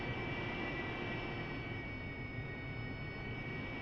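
A military jet in a flight combat game taxis toward the runway, its engine a steady, loud broadband roar with a high whine running throughout, unbroken by speech.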